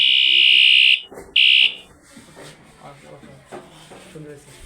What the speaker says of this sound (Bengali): security alarm